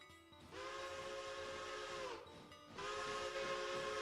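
A steam locomotive whistle in the Railroader train game, two long steady blasts close and fairly loud, a short break between them and steam hissing underneath.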